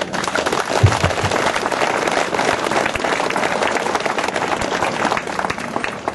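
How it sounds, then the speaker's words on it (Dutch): An audience applauds at a farewell cycling race for Georges Vonckx in Heist-Goor, a dense, steady clapping that holds loud and unbroken from start to finish. "Ik zou een applaus willen vragen"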